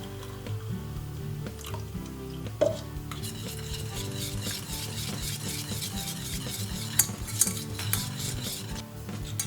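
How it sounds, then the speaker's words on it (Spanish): A spoon stirring milk into vegan béchamel sauce in a pan, with continuous soft wet swirling and scraping, occasional utensil clinks against the pan, close and fairly quiet. "Seguimos incorporando leche hasta que tenga la textura y la consistencia que queramos."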